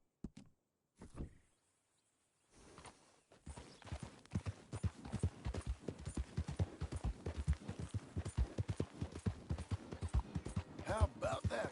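Horse hooves clip-clop steadily in Red Dead Redemption 2, a quick regular rhythm of close, moderately loud footfalls that starts after a few seconds of near silence and keeps going to the end.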